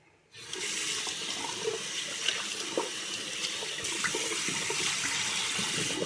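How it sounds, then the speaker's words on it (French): A tap runs steadily as very cold water pours out for rinsing during a morning washing routine: a continuous, close, even splashing gush that starts abruptly and carries on without a break. "je rince à l'eau très froide"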